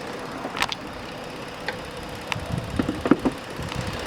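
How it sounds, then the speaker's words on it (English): A 3.7-liter engine in a 2016 Ford Explorer Police Interceptor, AWD, idles quietly and evenly close by, a low steady hum with a few faint clicks and ticks and no voices. "here's the engine. Nice and smooth, very quiet, very comfortable vehicle here, folks."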